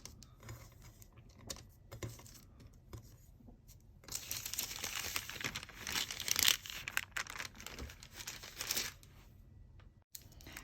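Baking paper is handled while working with polymer clay, giving soft crinkling and rustling in irregular bursts, quiet at first and then denser and louder through the middle, with small clicks from nearby handling.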